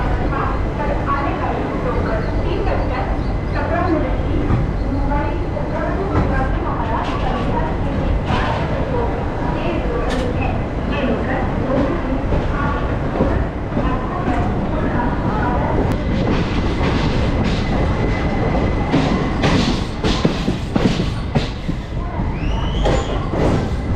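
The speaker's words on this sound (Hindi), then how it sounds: "ट्रेन का डिपार्चर हो रहा है यहाँ से।" Express train leaving a busy Mumbai station, with a steady low rumble of rail cars and intermittent clickety-clack and squeals rising over crowd chatter and nearby voices throughout.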